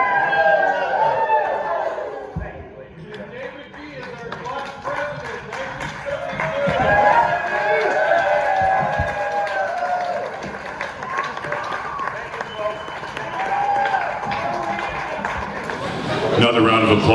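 Applause and cheering from a reunion crowd follow a toast at a class's 50th reunion dinner. A steady room-filling patter of hands runs under chatter and a voice on the microphone, fading and then swelling again.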